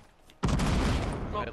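Players shooting at each other in a video game: after a short quiet lead-in, a sudden loud burst of gunfire erupts and keeps roaring as a sustained, overlapping barrage to the end.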